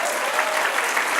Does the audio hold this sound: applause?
yes